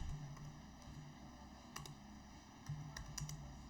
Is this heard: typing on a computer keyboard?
yes